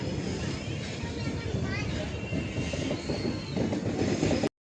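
A passenger train rolls into Nagpur railway station, its wheels rumbling and clicking steadily with faint squeals, loud and close from on board, then cutting off abruptly.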